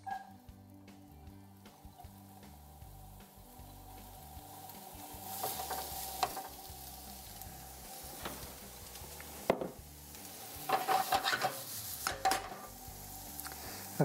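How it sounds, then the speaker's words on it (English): Onions hit garlic-infused olive oil in a hot pan, starting a soft sizzle joined by scattered clinks and scrapes of a utensil against the pan, louder toward the end, without speech. "Into that, I'm gonna throw in the onions."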